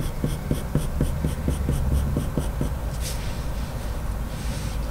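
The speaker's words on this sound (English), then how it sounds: "you can increase the pressure on your pencil" Coloured pencil laying down colour on paper while drawing tabby cat fur, a close series of quick, crisp scratchy strokes in a steady rhythm for about two and a half seconds, then softer, fainter rubbing with no talking.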